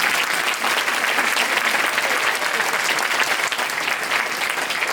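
An audience claps steadily for a singer at a French-language live show, a dense, even applause that holds at full strength for the whole stretch, with no voice above it.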